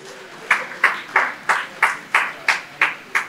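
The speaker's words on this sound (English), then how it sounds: "A round of applause again." At a 50-year school reunion gathering, people clap again in slow unison, about nine distinct even claps spaced evenly, each crisp and ringing slightly in the room.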